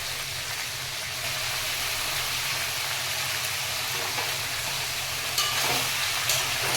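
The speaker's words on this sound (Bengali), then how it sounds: "হালকা আঁচে মশলাটাকে কষবো। এবার মোচাগুলো দিয়ে দেবো।" Chopped banana flower added to a spice paste with garlic, frying over low heat in a pan, crackles and sizzles steadily like light rain with occasional stirring scrapes, close and continuous.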